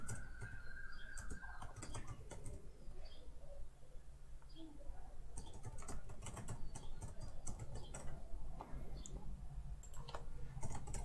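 Computer keyboard typing and mouse clicking at a desk, quiet, irregular light taps scattered over a steady low background hum.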